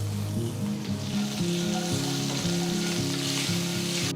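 Peanuts, asafoetida and curry leaves sizzle loudly in hot oil as they are stirred, a constant crackling fry with a steady tone humming underneath and no talk.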